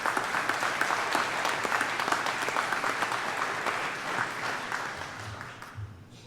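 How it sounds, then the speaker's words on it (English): Audience applause for the county commissioners at a Mercer County state-of-the-county gathering: steady, dense clapping from a room full of people that holds for several seconds, then thins and fades toward the end. "Let's give them a round of applause."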